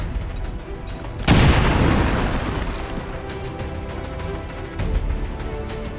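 A grenade in XCOM 2 detonates with one loud, close boom that rolls into a long, decaying rumble.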